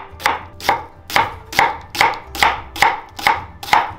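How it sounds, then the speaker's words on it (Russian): A knife chops an onion steadily on a board, about nine crisp evenly spaced strokes in a brisk rhythm, close and loud with no talking. "Половинки лука еще напополам и нарезаем в поперек."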